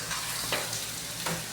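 Onions fry in a kadai with a close, continuous sizzle and a few quick scraping stirs over about a second and a half.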